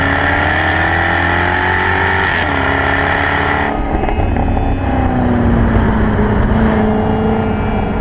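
Jaguar F-Type V8 S engine roaring loudly and steadily on a Romanian mountain road, its pitch rising and falling as the car accelerates and shifts, close and continuous with no talk.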